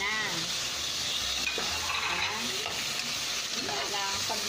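Pakbet vegetables with tomato sizzle and get stirred in a frying pan, a steady close crackle with scraping stir strokes throughout.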